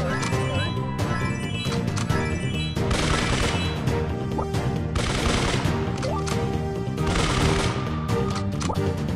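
Loud, sustained video game gunfire pours from the player's weapons in continuous rattling bursts over a busy, layered game soundscape with music-like tones underneath.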